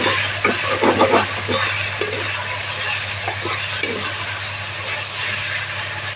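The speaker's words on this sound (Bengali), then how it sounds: "এইটা ভালো মতো মশলাটা এখন ছেড়ে দিচ্ছি এর মধ্যে" Spice paste frying in hot oil in a pan for a Bengali fish curry (macher jhal), a steady close sizzle with scattered stirring scrapes, loudest at the start and holding evenly throughout.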